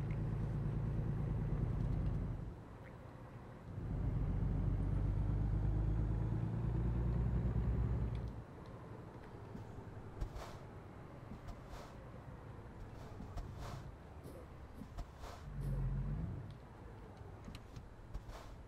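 A truck engine in American Truck Simulator rumbles loudly in two long revving stretches, then settles into a quieter idle with faint clicks and ambient traffic.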